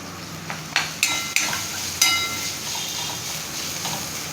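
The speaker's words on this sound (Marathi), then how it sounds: "आता हे 1 मिनिटभर सगळं तेलात व्यवस्थित परतून घेतलंय" A utensil clinks and scrapes against a pan a few times while boiled jowar grits and greens are stirred in oil, with a faint, steady background hiss.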